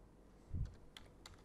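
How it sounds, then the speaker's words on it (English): Keystrokes on a computer keyboard while typing into a word processor: a single soft, low thump followed by a few faint, sparse clicks, heard alone and close in a quiet room. "Now, let us start typing something."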